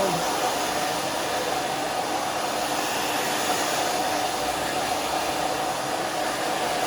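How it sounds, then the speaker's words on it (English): Continuous whoosh of a blow dryer running at a steady speed, close by, with no talking. "Always move your blow dryer in your hands."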